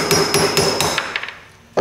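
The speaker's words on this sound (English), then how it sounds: "tap it carefully with a hammer" Sharp metallic taps of a hammer striking a nail set to drive a pin out of a Craftsman LiftMaster garage door opener, several close strikes in steady rhythm, then lighter ringing taps and a final knock.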